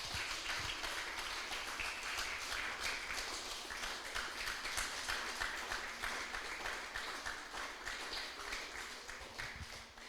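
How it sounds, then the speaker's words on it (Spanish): A church congregation claps steadily and loudly throughout, a dense sustained applause filling the whole stretch with no voice standing out. "Dale un fuerte aplauso al Rey"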